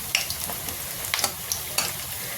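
Besan-coated Sakharu Banda pakoras frying slowly in oil on a low flame, a steady close sizzle and crackle punctuated by small popping bursts.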